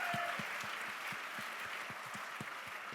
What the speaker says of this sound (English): give Hannah a round of applause